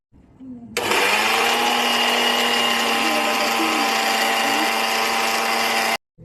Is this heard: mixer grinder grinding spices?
yes